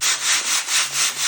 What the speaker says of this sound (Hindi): पिताजी छांट रहे हैं दालों को।